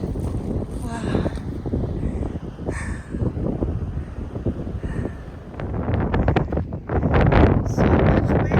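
Strong gusty wind buffeting a microphone on a mountain trail, loud roaring blasts rising and falling, with a voice briefly heard.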